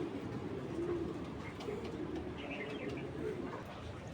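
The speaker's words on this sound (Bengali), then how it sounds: "খুবই তীক্ষ্ণ আর স্ট্রং বডি একটা কবুতর" A pigeon coos softly in a cage, low and somewhat distant, over a constant background hum without any talk.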